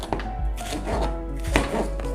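Bell peppers sliced into long strips with a knife on a cutting board, several soft chopping taps spaced out over about two seconds, close by with a faint background hum.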